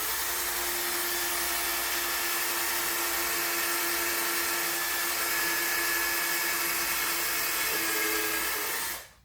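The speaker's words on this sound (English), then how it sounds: "I think my drill bit was slipping off there." An electric drill bores into wood at a 45-degree angle, giving a loud, steady high-pitched whirring grind that runs unbroken for about nine seconds before cutting off abruptly.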